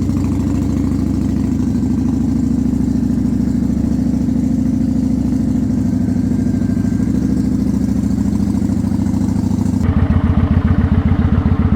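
A motorcycle engine idles steadily and close, a low throbbing rumble with light mechanical clatter, then the note changes near the end as the bike revs or pulls away; no one speaks over it.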